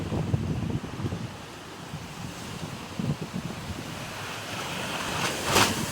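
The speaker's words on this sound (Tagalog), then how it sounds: "Hangin at saka ulan na." Strong wind and rain lash a seaside spot as a storm builds, a steady roaring rush with gusting swells and a brief hiss of heavier rain near the end, no voices.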